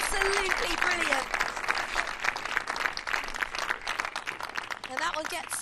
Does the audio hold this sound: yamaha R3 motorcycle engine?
no